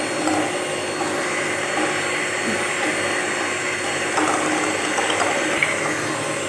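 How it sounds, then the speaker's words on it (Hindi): An electric mixer whirs steadily, beating eggs into an oil and sugar batter for cake rusk, with a continuous close, even motor drone and no talking. "अब हम इसमें एक एक करके अंडा डालते जाएंगे और इसको अच्छी तरह से बीट करेंगे।"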